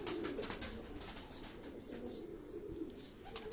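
Pigeons kept on a Karachi rooftop coo softly and steadily throughout, with some wing flapping and faint chirps in a windy, noisy outdoor setting.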